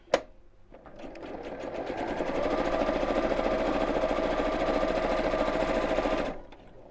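A sewing machine stitches an appliqué Christmas tree onto a cushion cover in one steady, continuous run of about six seconds after a brief click, close and loud, with no talking.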